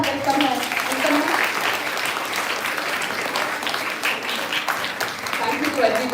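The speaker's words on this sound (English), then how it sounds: "I'll give a big round of applause and welcome her." A seminar audience at a women's college biochemistry event gives a sustained round of applause to welcome a speaker, with steady, close clapping throughout.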